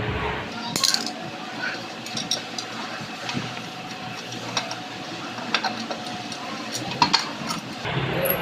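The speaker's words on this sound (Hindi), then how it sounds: "चारों स्क्रू खोल लेंगे।" Four screws being unscrewed from the magnet cover of a Honda CG 125 motorcycle engine, giving small metallic clicks and scrapes scattered over steady low background noise, close by.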